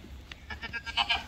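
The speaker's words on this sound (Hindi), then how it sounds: "बहुत अच्छा बकरा है, आगे से पीछे तक गुलाबी है" A goat on a farm in Sidhpur, Gujarat gives several short, close bleats in quick succession over faint background noise.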